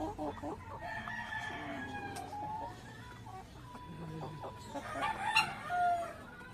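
Young laying hens about four months old clucking on a farm, with a rooster crowing among them; scattered calls rise and fall close by, with brief human talk in between.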